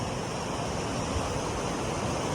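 Flood water from heavy rain pours continuously over a bridge near farmland, a steady, dense rushing roar with no pauses and no voices.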